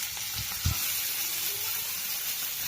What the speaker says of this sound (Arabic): طبعا اللوز ماما سلقته شوي وهلا عم بتحمصه بالسمنة